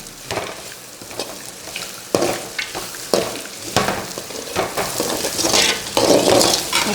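Chitranna seasoning mixture sizzling and frying in a pan, with steady crackle, spatula stirring strokes and occasional light clinks against the metal, growing louder toward the end.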